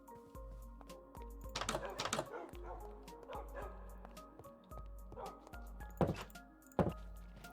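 Several dogs in the TerraFirmaCraft game bark and yip in repeated bursts, a pack of eleven, with sharp game-sound thunks and whimpers scattered between barks.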